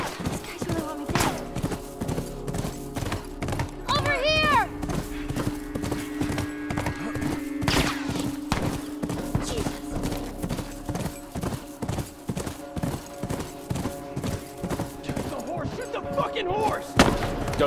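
Horse hooves clip-clopping steadily through a firefight in The Last of Us Remastered, with thuds, distant shots and occasional whinnies as a voice talks over the action.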